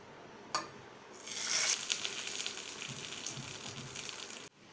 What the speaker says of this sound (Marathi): आता याला फोडणी देऊया।